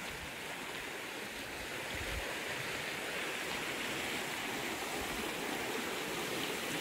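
Flowing water of a creek along the Pacific Crest Trail in Washington, a steady broadband rush close by that holds an even level throughout with no talking.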